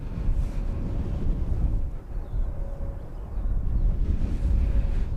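Low rumbling wind buffets the microphone in uneven gusts on a planespotting platform at London Luton Airport, with a faint steady hum underneath and no voices.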